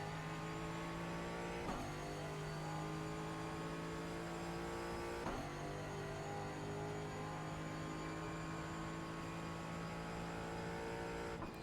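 A Ford Mustang GT4 race car engine in iRacing drones steadily and loudly with no pause, its pitch dropping and rising through a couple of shifts and throttle changes, and no voices over it.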